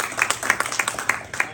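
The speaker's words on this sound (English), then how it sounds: "Quick round of applause." Brief round of applause from an audience at a political gathering, a few seconds of scattered, irregular hand claps at moderate loudness, heard close and without talk.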